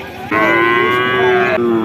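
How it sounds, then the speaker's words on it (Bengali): A single loud, drawn-out moo from a very thin, bony cow at a cattle market in Jessore, Bangladesh, close by, lasting over a second. "আপনাদের কিছু শুকনো হাড্ডিসার গরু দেখাবো"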